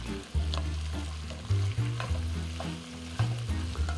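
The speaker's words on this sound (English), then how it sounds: "we can stir it." Garlic and curry are stirred in a hot pan, giving a steady sizzle of frying with scraping, shuffling stir strokes throughout. The sound is close and fairly quiet, with no talk.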